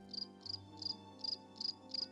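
Crickets chirping at night as a cartoon sound effect: six evenly spaced, trilling pulses, faint and clear, alone over a soft background hum.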